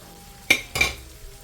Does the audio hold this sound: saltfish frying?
yes